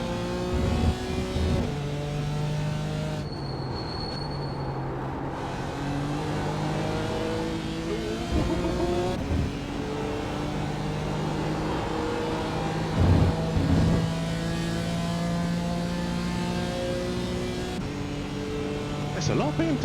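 GT4 race car engines at Spa in the iRacing sim, with an Aston Martin nearby and many BMWs in the field: a loud, continuous engine drone that rises and falls through gear changes, with someone talking over it.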